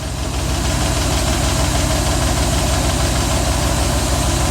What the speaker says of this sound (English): That sounds like the tensioner filling up with oil.